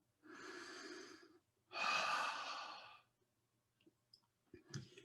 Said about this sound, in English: I invite you to take a deep breath